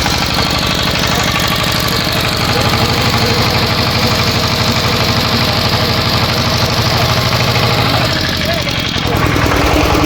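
A BG 5 generator engine runs at a steady, loud idle with a rough, chugging rhythm, close up, while someone talks over it.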